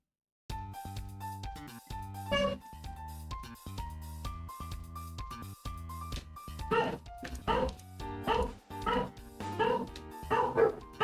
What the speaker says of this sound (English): The dogs are awake and agitated.